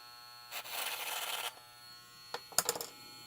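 VGR 880c electric hair clipper cutting through a brush: a raspy buzzing burst of about a second, a pause over a low hum, then a shorter choppy crackling burst.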